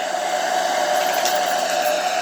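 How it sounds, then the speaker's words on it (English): A hair dryer with the heat on blows steadily up close over poured paint, a constant whooshing roar with a whining motor tone. "it's just a hair dryer"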